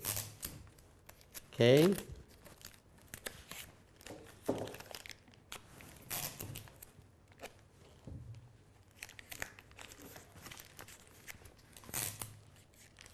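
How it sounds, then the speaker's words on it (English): Cellophane tape being pulled and wrapped around a shoe design form, giving brief tearing and crinkling bursts, one loud rip near the start, with someone talking over the handling noises. "I'll do it with the cellophane tape."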